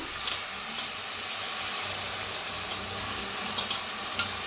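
Soaked dal being mixed and fried in a pan, giving a steady broadband sizzle with soft stirring scrapes throughout, fairly close and even in level, no voices.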